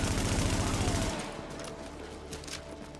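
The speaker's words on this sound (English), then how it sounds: "we get a few enemies spawn here, trying to shoot civilians" Rapid automatic gunfire from enemies in the video game The Division, a dense loud burst for about a second, then scattered fainter shots and a few sharp cracks trailing off.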